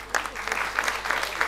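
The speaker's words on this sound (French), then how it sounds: "Monsieur Amédée, que je vous demande de l'applaudir très très fort." A crowd at a French-language anniversary celebration and awards ceremony for a civil-society network bursts into brisk, close applause, with a few individual claps standing out.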